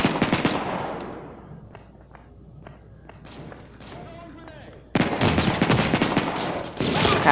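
Mobile shooter game Modern Strike: loud automatic gunfire bursts open and close the stretch, with scattered thuds and quieter sparse shots between, while a player talks over the action.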